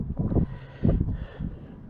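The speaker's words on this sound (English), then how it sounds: "It's windy as well, which ain't helping" Gusty wind buffets an outdoor microphone in low rumbling bursts that swell and ease three times over a couple of seconds, loud and close, with no talking.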